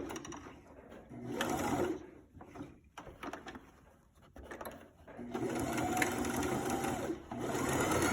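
Sewing machine stitching a shirt collar, reinforcing the corner with a backstitch: a steady mechanical whir in two runs, split by a short quiet pause while the fabric is turned, close and fairly loud with no talk.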